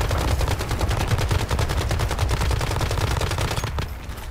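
Sustained automatic AK rifle fire in the survival shooter Once Human, a loud, rapid stream of shots filling nearly the whole stretch before cutting off abruptly near the end.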